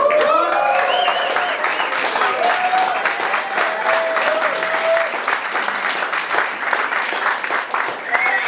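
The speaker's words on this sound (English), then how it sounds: "can we give Digital Transitions a great hand of applause?" Audience applause for Digital Transitions at the company's 10-year anniversary party: sustained, dense clapping from a sizable crowd with cheers and whistles mixed in, steady and loud throughout.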